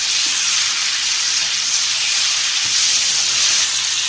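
Ground spices fry in a pan for radish bhujiya, making a steady, loud, continuous sizzling hiss close by with no talking.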